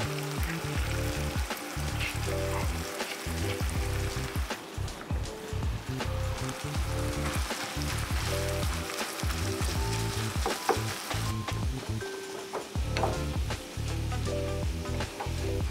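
Cauliflower rice tipped into a hot pan with ground meat for keto stuffed grape leaves, a dense, continuous close sizzle with stirring scrapes throughout and no voice.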